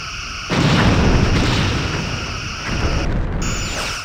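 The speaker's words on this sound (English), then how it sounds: "I think 2 of my torpedoes hit there." Torpedoes strike a ship in the space combat game Star Trek: Bridge Commander, setting off a loud booming explosion that hits suddenly and rumbles on for several seconds, with a second swell of blast noise near the end.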